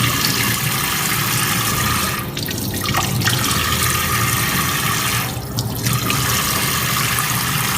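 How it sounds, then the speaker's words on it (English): Water from a tap runs steadily and loudly into a sink while arms and hands are wetted for a surgical scrub, the splashing briefly changing twice as limbs pass through the stream. "So wet arms and hands thoroughly by moving arms from the fingertips to the elbows."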